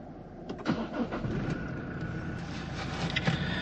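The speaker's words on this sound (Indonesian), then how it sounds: "sekarang kita nyalakan dulu untuk mesinnya ya" A 2022 Toyota Fortuner 2.8 engine being started, a brief cranking then a low steady idle rumble, close and fairly quiet, no speech.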